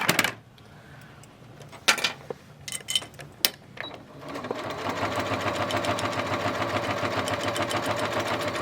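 A sewing machine lock-stitching a clutch wallet: a few scattered clicks and handling knocks, then the motor starts and runs steady and close in a fast, even stitching rhythm to the end.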